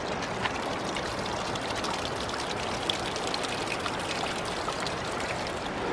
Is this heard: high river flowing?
yes